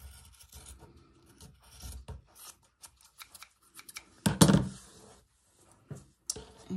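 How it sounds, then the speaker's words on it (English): Scissors trimming small frayed bits of fabric on a vintage sewing roll, heard as close, scattered snips and rubbing, with one louder rustling burst midway. "I'm just going to trim off these little frayed bits."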